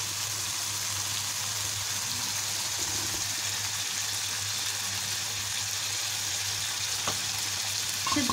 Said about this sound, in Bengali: এরকমভাবে আমি মাংসটা কতক্ষণ কষিয়ে নিব।